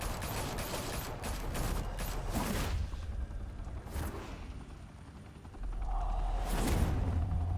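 Gunfire in the Batman: The Telltale Series game, sustained bursts of rapid shots and whooshing mechanical noise, loud at the start, easing in the middle, then swelling again near the end.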